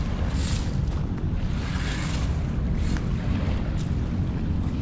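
A boat circling on Manila Bay, its engine droning steadily on open water, with gusts of wind buffeting the microphone and waves washing around it.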